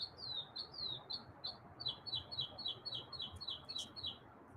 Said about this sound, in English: Yeah, we get it, Chirpy.